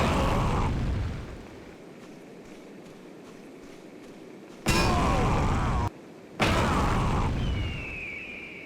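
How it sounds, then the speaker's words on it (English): Two loud, sudden bursts from a landmine in a video game, each a broad blast that cuts in and holds for about a second or more, set against a low rumbling game background. "kaboom, it was a landmine"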